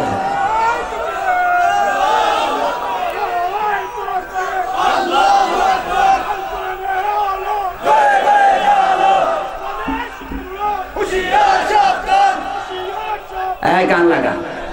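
A large crowd at a religious sermon gathering shouts the takbir chant in unison, loud and sustained, with voices rising in repeated waves over about fifteen seconds.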